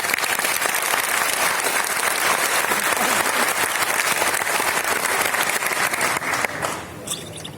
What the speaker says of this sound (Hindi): मैं आप सभी से करतल ध्वनि के साथ उनका स्वागत करना चाहूंगा